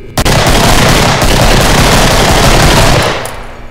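Sustained rapid automatic gunfire from a weapon in Garry's Mod, a dense, loud, continuous burst lasting about three seconds before cutting off.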